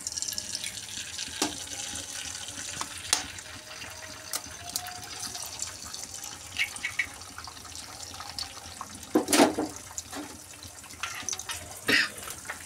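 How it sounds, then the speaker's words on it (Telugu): Eggs dropped into hot oil in a pan for masala egg noodles, giving a steady sizzling hiss with a few sharper crackles and pops, close and moderately loud, with no talking. "ఇలా ఎగ్స్ ఇలా వేసేసుకోవాలి ఆయిల్లో"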